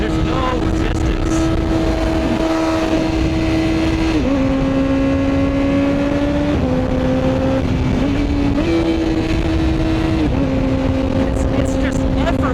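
A Honda CBR1000RR-R Fireblade motorcycle at speed, its steady high engine drone holding pitch and then stepping down with each gear change, loud and continuous under wind rush.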